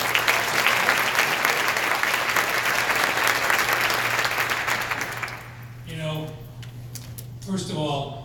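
An audience at an education summit applauds for the moderator and panelists, loud sustained clapping that fades after about five seconds into a quieter room with a voice speaking.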